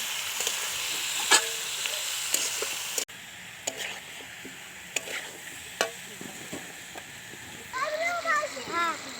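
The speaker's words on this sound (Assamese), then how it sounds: "কম জুইত ইয়াক অলপমান সময় ভাজিব লাগিব।" Chicken pieces sizzle gently in a pan over low heat, a soft steady frying hiss broken by stirring clinks and scrapes, with a person speaking over it toward the end.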